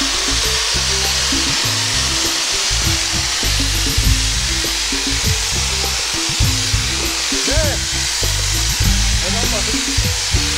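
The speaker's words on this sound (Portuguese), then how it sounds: "A ferramenta que eu adotei foi uma peça da batedeira da minha esposa e uma furadeira." An electric drill fitted with a kitchen mixer beater churns clay and water in a loud, continuous whir with gritty, sloshing texture, running steadily throughout.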